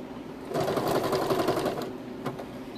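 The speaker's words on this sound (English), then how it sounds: "we're gonna sew this whole body on. It's stopping and starting." A sewing machine stitching the body onto a turkey-shaped pillow, running in a fast continuous whir close by for about a second and a half, then slowing and stopping.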